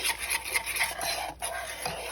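A spoon stirs a hot boiled sugar mixture for monkey bread in a pot, giving a continuous close scraping and rubbing sound with rhythmic strokes and no talking.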